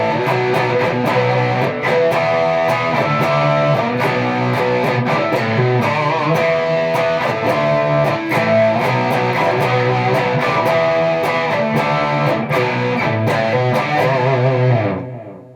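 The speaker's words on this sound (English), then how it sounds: "And now dark matter distortion alone." An electric guitar played through a Dark Matter distortion pedal alone gives loud, thick distorted chords and riffs that ring steadily for about fifteen seconds, then cut off, with no talking.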